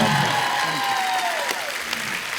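A studio audience on a TV show claps loudly for musicians in a brief burst of steady applause, with a tonal ring sliding down faintly underneath.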